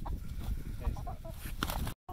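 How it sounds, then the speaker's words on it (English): Chickens from two flocks meeting, giving a scattering of short clucks and low murmuring calls, close and moderately loud over a faint outdoor background, ending in a brief cut to silence. "So now hopefully these chickens will be nice to each other and not be jerks"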